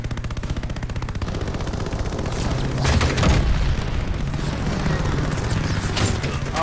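Aircraft machine gun firing during the Battle of Midway in Call of Duty: Vanguard, a steady roaring stream of rapid fire under engine drone that swells louder midway through.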